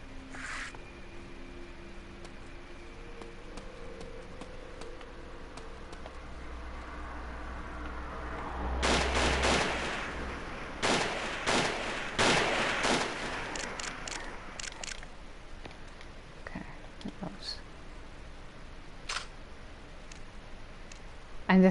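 Sharp gunshots from the Forbidden Siren video game, a loud cluster of several bursts in the middle followed by sparser, fainter shots over a quiet, hissy background.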